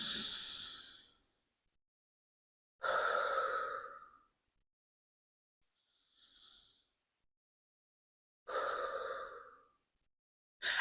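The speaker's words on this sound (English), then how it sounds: "Take a couple of deep breaths." Several slow, deep breaths drawn in and let out during a guided stretching exercise, each long airy exhale followed by a pause, with one softer breath in the middle, close and alone with no talking.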